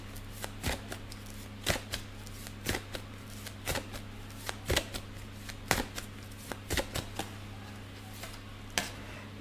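A deck of tarot cards being shuffled in a series of separate crisp riffles at irregular intervals, close but fairly soft, over a low steady hum, with no talking.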